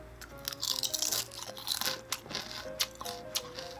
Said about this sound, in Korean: 바삭한 감자칩 한번 농심 수미칩으로 한번 느껴보도록 할게요